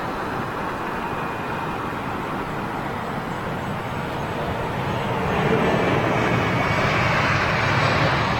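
Boeing 787 Dreamliner airliner at London Heathrow, a broad, steady jet roar that swells louder partway through as the aircraft draws nearer, heard outdoors from a planespotting spot with no talk.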